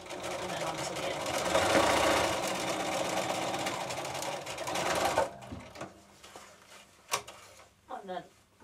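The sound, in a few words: sewing machine stitching a cushion zip closure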